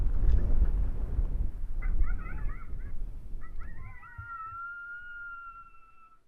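A coyote pup serenade call played on an electronic caller in the Badlands during breeding season rises as wavering, yipping whines, then settles into long, drawn-out howl tones over low wind rumble.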